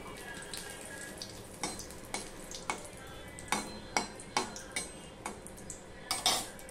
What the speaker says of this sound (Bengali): এবারে এর মধ্যে আমি একটা শুকনো লঙ্কা দিয়ে দিলাম ফোড়নে, আর তেজপাতা দিয়ে দিলাম।